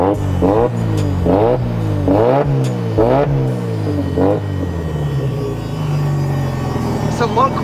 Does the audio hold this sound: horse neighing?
no